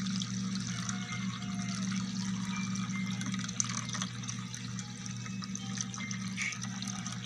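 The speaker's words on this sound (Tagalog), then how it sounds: "Lalagyan natin ng tubig guys para sa sabaw." Water pours continuously into a cooking pot for soup, a steady splashing stream with faint kitchen background noise.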